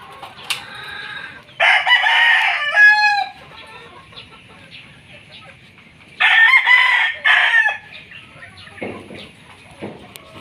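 A gamefarm rooster, a Sweater cross, crows twice nearby, each long strained crow standing alone, with softer clucking and faint farmyard noise in the quiet gaps between.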